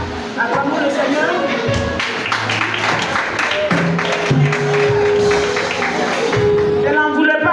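Church congregation applauding and clapping during a women's worship service in San-Pédro, a steady dense wash of claps filling the whole span, with voices and tonal music mixed in.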